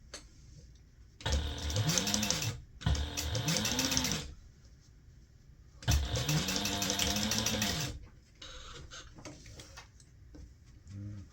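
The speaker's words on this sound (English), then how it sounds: "I'm just going to edge stitch right along that opening to sew this closed" Sewing machine edge stitching along the opening of a small fabric gift bag, three loud bursts of rapid mechanical stitching separated by pauses, then quieter handling sounds, close up with no talk.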